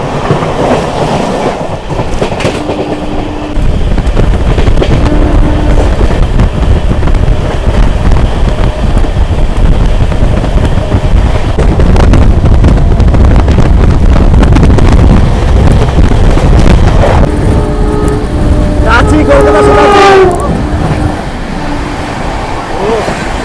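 The Vibhuti Express, running with new LHB coaches near Dankuni Junction, rushes along at high speed with a loud, continuous roar, rail rumble and wind buffeting, and a brief rising tonal squeal near the end.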